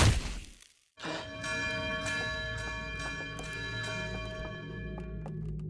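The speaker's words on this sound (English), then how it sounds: "The bell was going off," A bell in the video game Outer Wilds rings out with a sustained metallic tone and repeated strikes, its chime hanging and decaying over a few seconds after a brief noisy start.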